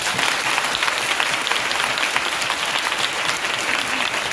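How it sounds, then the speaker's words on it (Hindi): A church congregation claps together in dense, steady applause that holds evenly loud for the full stretch, with no talking over it. "तो ताली बजा सकते हैं"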